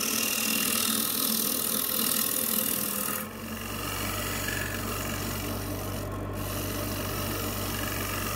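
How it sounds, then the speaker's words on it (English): A scraper works a wood surface with close, continuous rasping strokes; after a brief drop the scraping carries on over a steady low machine hum, with no talking. "I have to refine it with a scraper."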